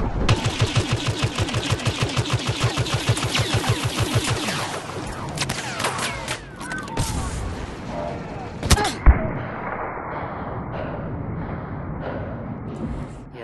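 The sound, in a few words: gunfire in Star Wars Battlefront video game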